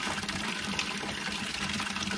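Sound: water filling a tank with a float-switch pump

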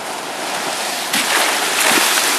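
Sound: water surge against flood levee boxes

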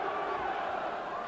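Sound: boxing crowd chanting Bruno

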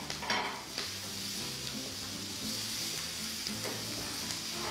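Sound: frying onion and vegetables in fat for a sofrito

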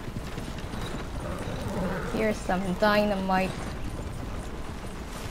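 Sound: horses in the video game Red Dead Redemption 2

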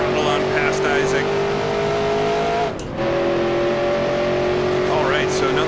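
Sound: race car engine accelerating out of a corner, from a NASCAR racing video game

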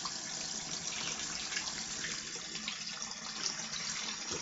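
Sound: tap water running into a sink to warm up

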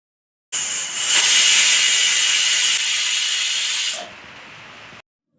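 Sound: pressure cooker whistling while boiling potatoes

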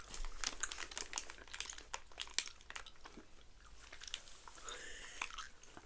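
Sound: chewing chewy gummy candy

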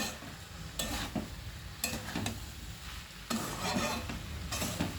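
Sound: stirring pointed gourd and potatoes with spices in a pan

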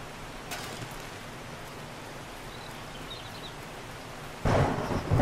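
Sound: thunderstorm and rain in the video game 7 Days to Die

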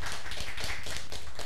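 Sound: audience applauding Valdeci

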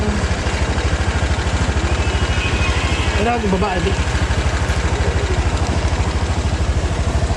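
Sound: motorcycle engine

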